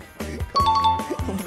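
A game show bell is pressed on the Vietnamese variety show Chạy Đâu Cho Thoát, giving a few bright ding-like chimes over busy studio background music.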